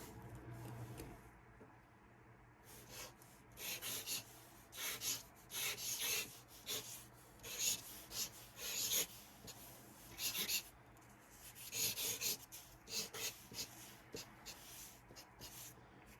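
A Montana Cans Bold 3mm chisel tip marker drawn across a surface in bursts of close, dry rubbing strokes with short pauses between, no talk over it.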